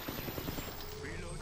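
Rapid bursts of gunfire in the battle-royale shooter Apex Legends ring out in quick succession, ending with a louder crack, under game sound and faint voice chatter.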